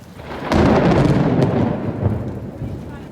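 A loud crack of thunder in Panama rolls into a sustained rumble over steady heavy rain, close and enveloping.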